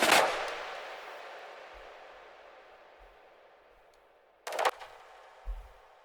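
Reversed snare roll swelling up in a long fading wash, layered with a processed timpani swell, then a sharp burst near the end followed by a low thump; no voices.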